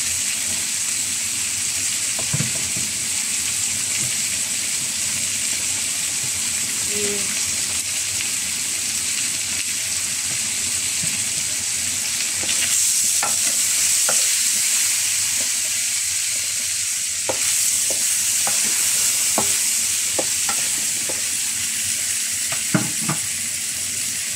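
Fern and other vegetables for chicken chop suey stir-fry in a hot pan, a continuous close sizzle and hiss with occasional sharp scrapes and clatters of the spatula, no talking.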